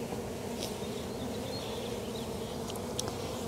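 Honeybees buzz in a steady, dense drone throughout an open-hive inspection, close and continuous with no talking.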